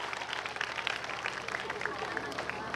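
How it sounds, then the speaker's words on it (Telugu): An audience at a school annual day in Korat Pally ZPHS applauds with dense, steady clapping, heard at a distance with faint crowd murmur underneath. "గట్టి చప్పట్లతో ఒకసారి"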